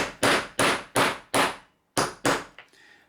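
Hammer blows striking a stamp into silver bars, six sharp, loud metallic-wooden impacts in a steady rhythm with a brief pause after the fourth, each ringing off quickly, followed by a softer tap.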